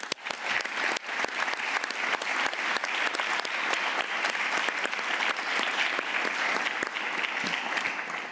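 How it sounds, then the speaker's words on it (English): Council delegates at a directing council session give a sustained round of applause, a dense, even wash of many hands clapping that fills a large hall steadily for several seconds, with no one speaking over it. "I think you should all give yourself a round of applause."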